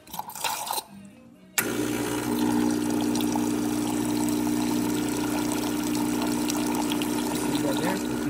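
Gaggia Classic espresso machine with an adjusted pump pressure, its pump kicking on abruptly after a brief quiet and droning steadily with a hum and rushing water flow, close and loud.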